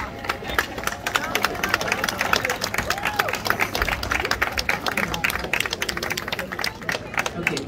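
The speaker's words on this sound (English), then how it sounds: "Students, stand and let's give your parents an applause" Graduating students stand and applaud their parents at a graduation ceremony: dense, steady clapping from a large crowd, with voices and chatter mixed through it.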